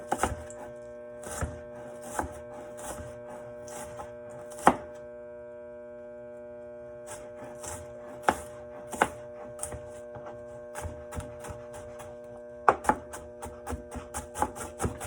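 A knife chops vegetables on a cutting board in bursts of quick taps, pausing briefly between runs, over a steady low electrical hum.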